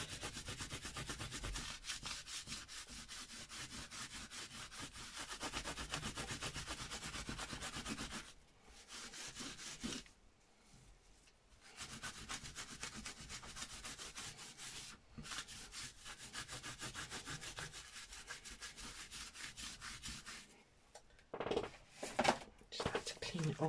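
Rag wiping ink off a lino printing block, a steady scrubbing rub that runs loud and continuous with a few short pauses and scattered clatter near the end.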